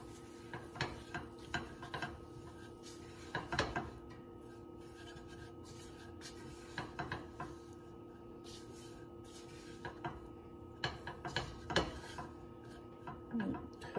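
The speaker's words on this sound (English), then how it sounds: "Now we're going to go ahead in and add 1/4 cup of flour. I'm going to stir that really well." A spoon scrapes and rubs around a pot as flour is stirred into Reuben soup, giving irregular soft scraping strokes and occasional light clinks against the pot over a steady low background hum, with no talking.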